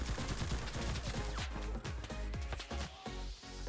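Dense gunfire in the video game Hell Let Loose, on a Tunisia battle map from the Axis side: a rapid string of loud, sharp shots and cracks layered over each other with constant rumbling battle noise, no pauses.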